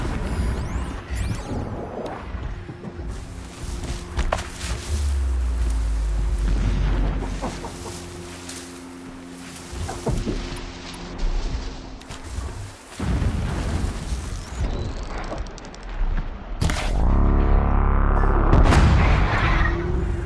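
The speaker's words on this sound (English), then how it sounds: "Explosions in the distance." Booming explosions in a video game sound far off in the distance. Dull thuds come in bursts over a steady background, with heavier rumbling toward the end.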